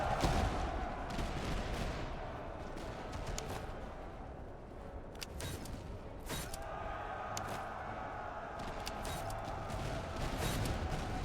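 Musket volleys from a Napoleonic-era battle game with the French Army of the Lower Rhine: faint, distant rolling crackle of gunfire over a steady battlefield din, with a few sharper reports standing out.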